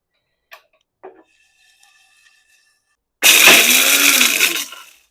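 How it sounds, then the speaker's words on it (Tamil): A mixer grinder jar powdering roasted garlic starts after a few faint clicks and knocks, then roars loudly and steadily for about a second and a half before winding down. "அதை ஒரு மிக்சி ஜாரில் மாற்றிட்டு அதை பவுடர் பண்ணி"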